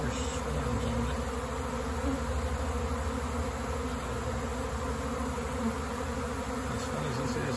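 A honeybee swarm gives a dense, steady buzz that fills the whole clip, loud and unbroken, with no talk.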